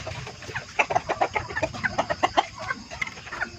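Several chickens clucking close by in quick, uneven bursts over a low background rumble, with no one talking.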